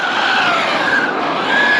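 A micro scale RC drift car slides continuously with a steady, thin hiss and high-pitched tire scrub and motor whine, loud and close throughout with no talk.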